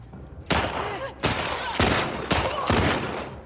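Gunfire in the video game The Last of Us Part II: four sharp, loud shots spaced less than a second apart, each with a short crackling tail.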